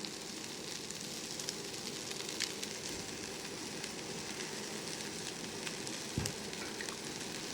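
Chicken fried rice with soy sauce being stir-fried in a pan gives a steady, loud sizzle with scraping stir strokes, continuous and close, with no voices.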